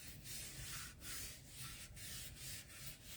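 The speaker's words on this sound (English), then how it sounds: "So I'm just grabbing a disinfecting wipe and going over it, moving any of the excess ink." A disinfecting wipe rubs back and forth over an ink-coated transfer in steady, soft strokes, a close, quiet swishing that repeats about every half second with no voices.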